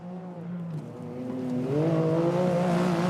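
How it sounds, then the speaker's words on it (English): A rally car on the opening stage of the Rally-Raid Portugal, the last car through, passes close with a loud, steady engine note that climbs in pitch as it accelerates and holds strong to the end. "This, in fact, I think, is the last car on the stage."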